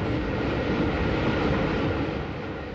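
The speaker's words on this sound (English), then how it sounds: "The train crosses over one of the great engineering features of the Brighton line, the Ouse Valley Viaduct" Vintage Southern Railway steam train crossing the Ouse Valley Viaduct on the Brighton line, 1930s to 1950s: a steady, loud, continuous rumble of rolling stock and wheels, unbroken throughout with no voices.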